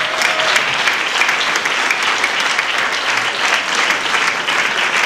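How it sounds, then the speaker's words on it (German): A live comedy show audience breaks into steady, dense applause, loud and sustained for several seconds with a faint murmur of crowd voices underneath. "Das ist dein Applaus"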